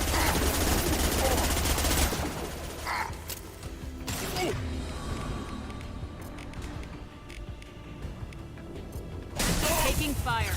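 Gunfire and mechanical clanks in the video game Mass Effect 2, loud sustained bursts at the start and end with a quieter stretch of creaks, whooshes and distant shots between, mixed with game voices.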